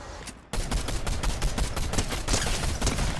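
A mammoth pistol fires in a video game, a rapid, continuous stream of loud gunshots after a brief quieter lead-in.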